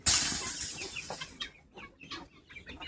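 Farmyard chickens cluck in short, repeated calls, fairly close and moderate in volume, with a sharper burst at the start and scattered bird calls following.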